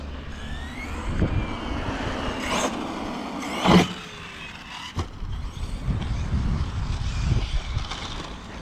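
Traxxas Sledge RC monster truck's motor whines and revs in bursts outdoors, with clattering impacts and tire noise between throttle pulls.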